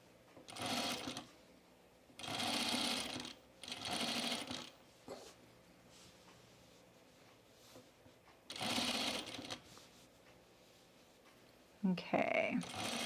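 A sewing machine stitches a flat felled seam in short bursts, running for a second or so at a time with pauses between, fairly close and clear, with a brief different mechanical whir near the end.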